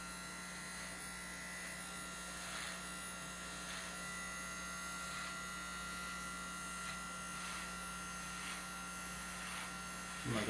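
An electric shaver runs across a face, giving a faint, steady buzz with a low hum that continues unbroken, broken only by soft, occasional stroke sounds.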